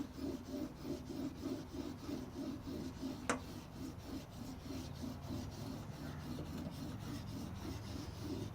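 Steady back-and-forth rubbing of a steel chisel being honed on an 800 grit sharpening stone, a rhythmic scraping that runs throughout, fairly quiet and close, with a brief sharp click partway through.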